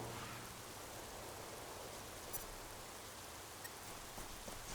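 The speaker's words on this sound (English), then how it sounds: "It's dark, it's rainy in the game, that is." Steady rain hiss from the SOCOM US Navy Seals II video game, a continuous broadband downpour with a few faint drop ticks, even and moderately loud throughout.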